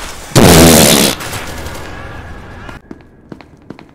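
A loud, dense burst of gunfire from a weapon in SCP: Secret Laboratory, close and lasting under a second, followed by a fading tail and scattered faint clicks and knocks.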